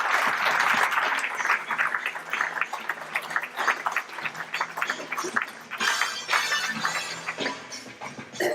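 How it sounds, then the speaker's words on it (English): Sustained crowd applause, dense clapping that starts strong and continues unevenly for several seconds, with a few sharper claps standing out. "Big round of applause for Lewis, please."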